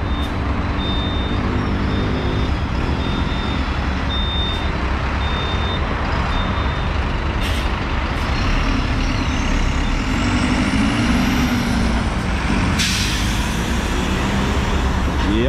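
A city bus pulls out of a temporary bus station in Taguatinga, its engine rumbling steadily near and loud amid traffic noise, with an air-brake hiss and a rising whine toward the end; a faint repeating beep sounds early on.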